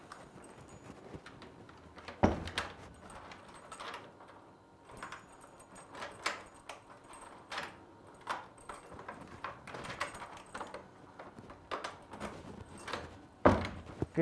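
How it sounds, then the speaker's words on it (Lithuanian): A door with a newly fitted lock cylinder is tested with a key: a quiet series of metallic clicks, clacks and jangles in irregular bursts, with louder knocks near the start and end. "Pakeitus patikrinam ar rakinasi durys."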